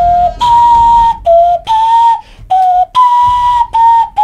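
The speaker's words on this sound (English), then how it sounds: "give me a little hand whistle" A person hand whistles a tune, clear piercing notes in a run of phrases that shift between two pitches, loud and close with short pauses.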